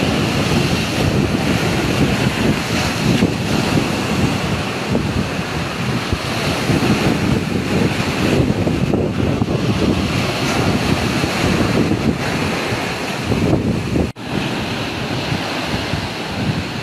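Big ocean waves surge and crash at Mogpog, Marinduque, Philippines, during Typhoon Carina. Strong wind buffets the microphone in a loud, unbroken roar, with a brief dropout near the end.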